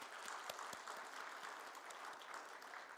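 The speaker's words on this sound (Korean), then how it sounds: "하나님께 영광의 박수를 올려드렸으면" A church congregation applauds during a Sunday worship service, giving soft, distant, steady clapping with a few sharper individual claps standing out, and no one speaking.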